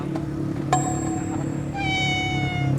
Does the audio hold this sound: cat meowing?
yes